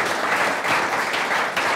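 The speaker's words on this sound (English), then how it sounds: "Maybe we should have a round of applause for that best business book of the year" An audience at a Startup Grind talk in Rotterdam gives a short burst of lively applause, many hands clapping together in a full, even spread from start to finish.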